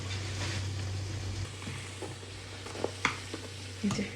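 Luchi dough frying in hot oil, a steady, soft sizzle with a low hum underneath and a few faint clinks and scrapes toward the end.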